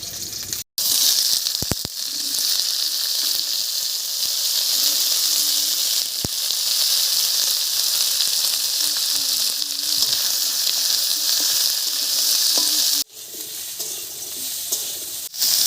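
Cauliflower, potato and green chilies sizzle steadily in a frying pan for a Bengali spinach dish, a continuous loud hiss broken by brief pauses and a few clinks, with no talking.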